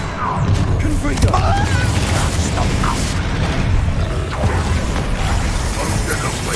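A Confringo blasting curse bursts in Hogwarts Legacy, a dense crackling impact with booming low rumble amid ongoing combat noise, with brief voice-like fragments over a steady loud bed.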